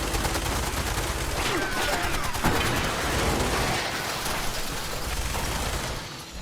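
Rapid, continuous gunfire from a turret during a squad insertion in a military shooter video game, dense and loud throughout with a brief voice call near the start.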